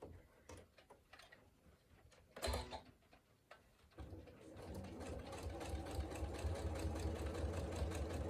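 A sewing machine runs steadily, top stitching a folded fabric edge with a lengthened straight stitch for a workshop bag. A few clicks and handling noises come first, then a continuous mechanical whir holds to the end.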